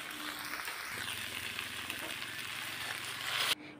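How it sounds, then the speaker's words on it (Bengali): A vegetarian spice paste without onion or garlic sautés in a pan, producing a steady, soft sizzle with some stirring noise before it cuts off abruptly near the end. "এখন ভালো করে কষিয়ে নেব।"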